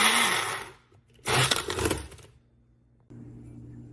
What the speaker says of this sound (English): I'm going to pulse it in 10-second increments until it reaches the desired consistency.